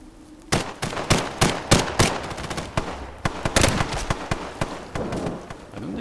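Video game gunfire rings out as a string of sharp, loud shots in quick paired bursts, each with a short echoing tail, close and alone with no talk.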